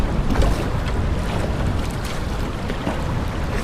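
Strong, cold wind roars and buffets the microphone nonstop while paddling outdoors on open water, a dense, loud rush with faint water wash underneath and no talk.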